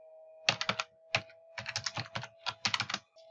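Fingers typing a password on a computer keyboard, quick bursts of clicking keystrokes in several short runs with brief pauses between, close and clear with no talking.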